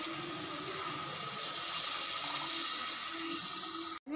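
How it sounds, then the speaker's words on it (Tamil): Water pours steadily into a pan of masala with a continuous rushing splash, close and unbroken, stopping abruptly at the end. "அப்புறமா கொஞ்சம் தண்ணி ஊற்றிக்கோங்க"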